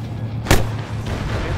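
A single sharp blast in Arma 3 on the Chernarus map, a broadband boom about a third of the way in with a short rumbling tail over steady game ambience.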